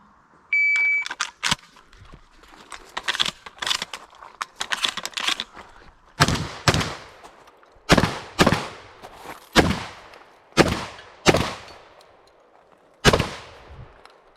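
Shotgun blasts ring out at a shooting championship, with about eight sharp, loud reports spaced a second or two apart and a short electronic beep at the start amid faint range noise.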